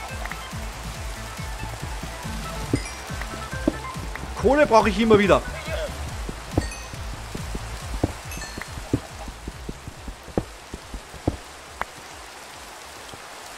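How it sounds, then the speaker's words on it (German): Rain falling in the video game Minecraft, a steady soft patter under someone talking in German, with sharp clicking game sounds and a brief louder burst partway through. "jetzt regnet es gerade, Leute"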